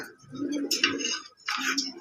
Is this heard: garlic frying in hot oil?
no